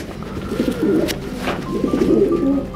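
Racing pigeons coo nearby in a loft in two soft, rolling phrases, with faint chirps in the background.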